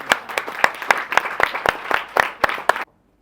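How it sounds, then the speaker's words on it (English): A small audience at an International Women's Day event in London claps for about three seconds, with distinct separate hand claps rather than a dense roar, then stops abruptly. "So let's give her a round of applause."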